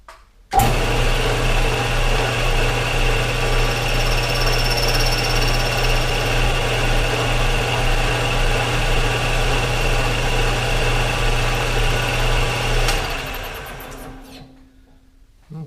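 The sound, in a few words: machining a key seat on an oil pump drive shaft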